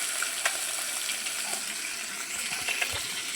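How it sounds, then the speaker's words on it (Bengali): Leta fish fry crisply in hot oil, giving a continuous bright sizzle with scattered pops and spatters, close and moderately loud, with no voices. "মুচমুচে করে ভাজা হয়ে যাচ্ছে"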